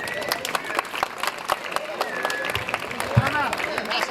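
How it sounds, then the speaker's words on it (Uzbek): Audience clapping at a traditional kurash wrestling wedding celebration: a dense, steady patter of many hands with crowd murmur and voices mixed in, swelling slightly near the end. "Qarsak chop qo'yinglar."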